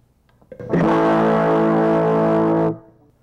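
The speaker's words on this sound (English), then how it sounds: "And you can hear a distortion sound." One sustained chord from an electric guitar with overdrive distortion through a Crate amplifier rings loud and buzzy for about two seconds, then cuts off sharply.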